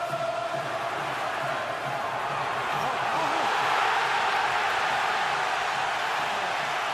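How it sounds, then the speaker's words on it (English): A boxing arena crowd at the Floyd Mayweather vs Ricky Hatton fight roars in appreciation, a dense sustained wall of cheering voices that swells slightly midway and holds loud throughout. "Crowd thunders its appreciation"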